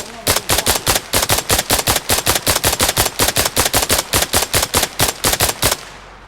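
Rapid video-game gunfire with heavy artillery in play: a fast, steady burst of loud automatic shots for nearly six seconds, ending abruptly, with no talk over it.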